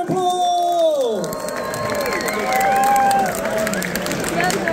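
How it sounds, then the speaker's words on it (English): A crowd at a Dutch chili festival cheers and shouts with whoops and whistles while some people clap, loud and lively throughout, the cheering swelling again near the middle. "Let's give them a big round of applause."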